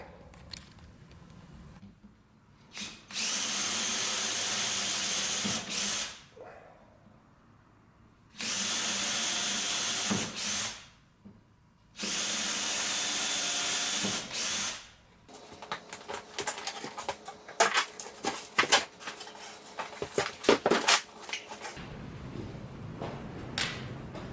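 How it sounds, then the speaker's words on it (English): A power drill whines loudly in three long bursts separated by short pauses, drilling pilot holes through the side of a wooden arcade cabinet, then gives way to clattering, rattling handling noises. "So we can just drill through there, and that will give us our pilot holes"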